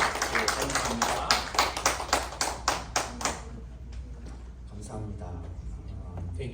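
A church audience claps in unison to welcome a speaker, with about a dozen loud, rhythmic, evenly spaced claps for three seconds, then quieter scattered clapping and murmured voices.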